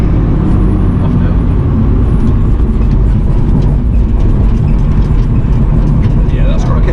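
A race car drives hard through the Nurburgring Carousel, its engine note a loud, steady roar with continuous road and wind rumble throughout, with no talk over it.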